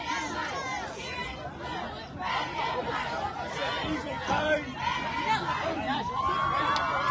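High school football crowd at Berean Academy vs Mission Heights Prep cheers for the cheerleaders, a dense babble of voices and shouts, including children, swelling and holding throughout at moderate distance.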